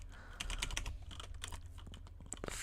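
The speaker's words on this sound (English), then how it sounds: "I have an Azerty French keyboard, so it's like so annoying that I have to press Shift to do like so many things" Typing on an AZERTY French computer keyboard, an irregular run of close key clicks and taps with a few louder strikes, heard alone without talking.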